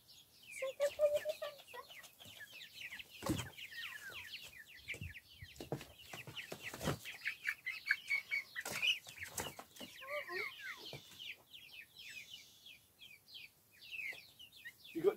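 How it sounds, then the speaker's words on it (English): Chickens clucking and chirping busily in rural Bulgaria, a dense flock chattering with overlapping calls close by, with occasional bumps and rustles. "Chickens."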